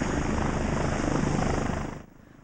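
Vanderbilt's Life Flight medical helicopter, a loud, dense rotor and turbine roar held steady for about two seconds before cutting away abruptly to quiet.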